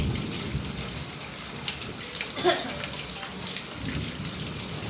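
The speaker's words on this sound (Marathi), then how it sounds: "तर आज मुसळधार पाऊस पडतोय गावाकडे." Heavy monsoon rain pours down steadily in a village, a constant hiss of drops on surfaces with a faint low rumble, with no talking.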